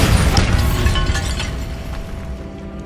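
A Bombarda spell detonates in Hogwarts Legacy, a loud, close blast with crackling, shattering debris that rumbles and slowly tapers over about three seconds.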